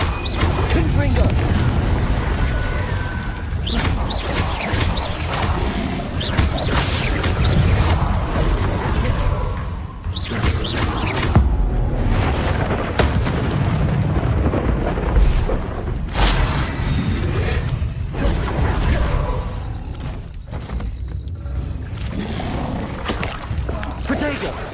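Repeated Confringo fire blast spells from a Harry Potter video game burst in loud booms and whooshes amid continuous combat clatter, with shouted spell incantations over the top.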